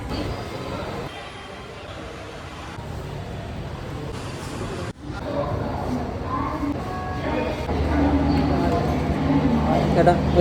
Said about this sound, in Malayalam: ഇതാണ് കോട്ടയം റെയിൽവേ സ്റ്റേഷൻ